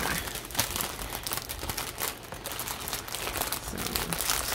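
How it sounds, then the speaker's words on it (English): Plastic packaging crinkling and crumpling in close, continuous handling, with dense crackles lasting throughout and no speech. "Sorry again for the crinkling."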